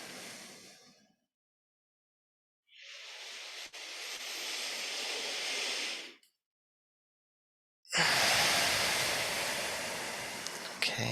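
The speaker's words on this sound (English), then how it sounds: "in your nose and out your mouth, or just in and out of your nose." Slow, deep meditation breaths, drawn in through the nose and let out through the mouth, come as three long, close, airy rushes separated by clear pauses.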